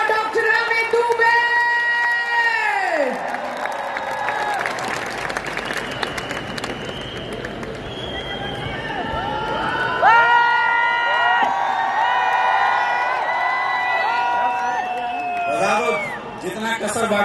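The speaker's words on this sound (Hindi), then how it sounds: "दोनों हाथ ऊपर, जोरदार तालियां for the new royal ambassador" A large event crowd claps and cheers loudly for a newly named royal ambassador, with whoops and shouts rising over steady applause and music throughout.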